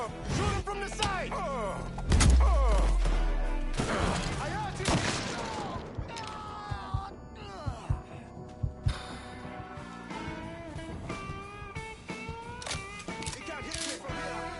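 Gunfire from the Mafia III video game: a heavy thump and burst early on, then scattered sharp shots and impacts amid game sound and speech.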